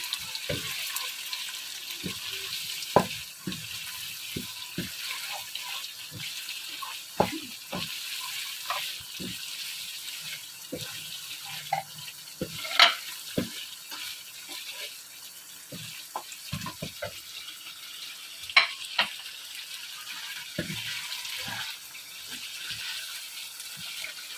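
Meat for karela gosht frying and being stirred in a pot: a soft, continuous sizzle with irregular scrapes and clinks of the spoon, fairly quiet throughout.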